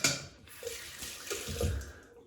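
Water splashes and runs briefly, as if poured onto a British shaving soap or cream, close by and fairly quiet, with a short gurgling burst near the end.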